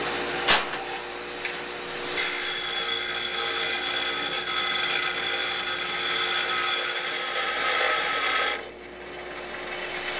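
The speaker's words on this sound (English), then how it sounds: "we're just gonna put a real nice bevel around one side, all the way around on the bottoms of these" A power tool grinds a bevel around the bottom edges of steel newel post base plates to prepare them for welding, a loud, steady, close-up whine with a brief knock near the start and a drop-off near the end.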